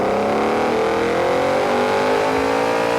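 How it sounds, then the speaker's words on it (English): A V8 engine in Forza Horizon 4 revs hard at full throttle from low RPM in a high gear, a loud, close, rising growl sustained throughout with no talking. "How beautiful is that V8 tone?"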